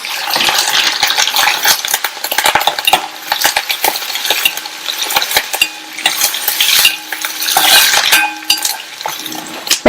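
Sliced onions, fennel seeds and curry leaves sizzle and crackle in a pan while being stirred, with loud, uneven bursts of frying and sharp metallic scrapes and taps of a spoon, no talking.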